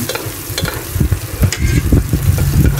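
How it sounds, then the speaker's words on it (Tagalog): Garlic and onion stir-fried in a pan for tinolang manok, with a steady close sizzle and repeated scraping stirs of the spatula, no talking. "Stir fry ng kaunti hanggang medyo mag-golden brown yung garlic at saka onion."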